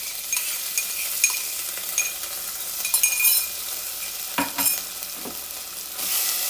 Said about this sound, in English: Lower the heat, and then goes the freshly crushed ginger garlic.